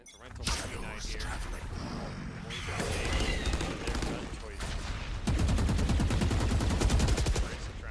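Rapid automatic gunfire from a Counter-Strike-style esports match, with bursts of shots growing denser and louder toward the end, heard over constant busy game noise and caster commentary.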